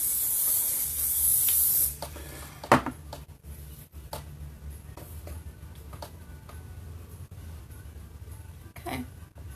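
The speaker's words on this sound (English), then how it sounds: "Give me one more spray here." A handheld spray bottle lets out one long, loud, close mist burst lasting about two seconds, followed by quieter handling taps and clicks.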